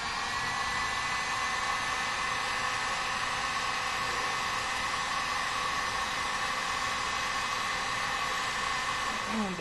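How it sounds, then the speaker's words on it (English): A heat gun blows steadily on a heat-shrink sleeve over a wire splice, a constant airy hiss of blowing air held at an even level throughout, with no talk. "use the heat gun."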